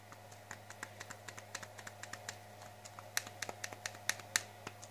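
Keys being typed on a keyboard to enter a username while setting up an Openbox V8S satellite receiver; a steady run of crisp, close clicks over a constant low electrical hum, with no talk.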